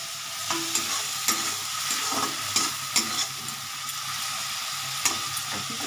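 Potatoes and soya chunks with curry spices stir-fried in a pan, a constant loud sizzle broken by regular scraping strokes of a spatula every second or so, up close and without speech.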